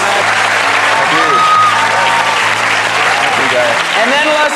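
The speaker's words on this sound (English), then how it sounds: "let's give our teenagers a big round of applause." An audience gives a big round of applause for teenagers at a day-long planning event, loud sustained clapping close by, with voices and cheers over it.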